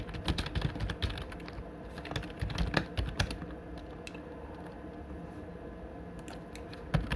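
Code being typed on a computer keyboard: quick, irregular clusters of key clicks, busier at first, then thinning to sparse taps with short pauses, close and clear with no talking.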